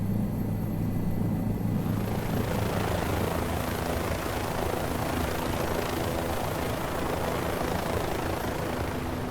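Steady, loud helicopter rotor and engine drone in Microsoft Flight Simulator 2020, at a helicopter hangar, runs continuously without a break, with no voices.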